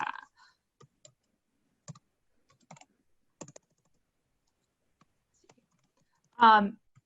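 A handful of sparse, quiet keyboard clicks spaced out over several seconds, followed by a short burst of a voice near the end.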